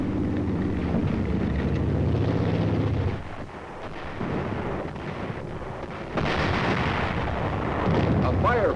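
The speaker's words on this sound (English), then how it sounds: "A firefight begins." Wartime firefight in an archival 1951 recording, with heavy, continuous rumbling gunfire and blasts that dip briefly midway and then surge back, loud and distorted throughout.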